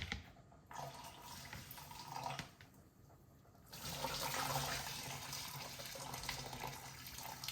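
Water from a pot of cooked rice pours through a strainer into a container below, a steady broadband splashing rush that swells louder partway through and runs continuously without talk.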